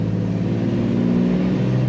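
A 1954 Plymouth Plaza Club Coupe cruises in third gear, its engine a steady, close, mid-pitched hum with a low rumble and a slight rise in pitch near the end.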